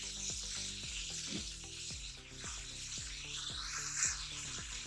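Garlic and green chili frying in a pan, a continuous crackling sizzle with rapid popping bubbles throughout, close by and fairly quiet, with a brief stir near the end.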